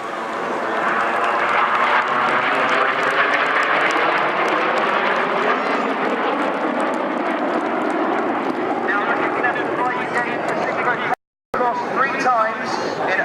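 Red Arrows display jets roaring overhead during a vertical break at the Swansea Airshow 2013, a loud sustained engine rush with shifting pitch as the formation splits, crowd murmur beneath and a brief dropout near the end.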